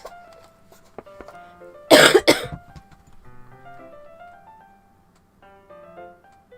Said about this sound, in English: And then coughs will take over the world.